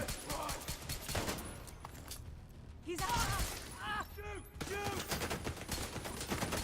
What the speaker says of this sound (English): Just stop shooting me.